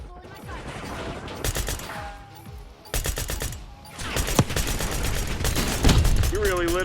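Rapid bursts of hand cannon gunfire from Call of Duty Vanguard, loud and close, crack out in clustered volleys amid explosions and game effects, with voices and radio chatter underneath.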